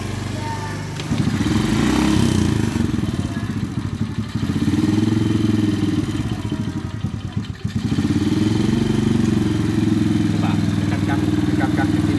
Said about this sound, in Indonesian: Nah ini akan kita nyalakan